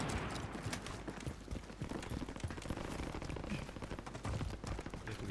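Gunfire in Call of Duty: Modern Warfare, a steady barrage of sharp cracks and bursts that carries on without a break across the whole moment, dense and loud, with no voices over it.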